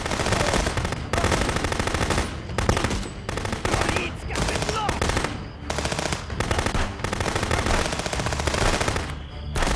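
Dense, sustained automatic gunfire from a police shootout at a sawmill in the video game Contraband Police, loud rapid bursts with only brief gaps, continuous across the whole stretch.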